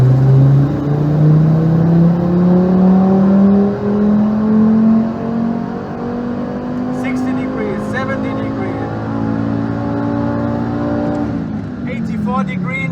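Audi TT RS Mk1 with CEPA engine, intercooler and charge cooling, revving hard on a dyno, the engine note climbing steadily and loudly for several seconds before dropping off, with some clatter toward the end.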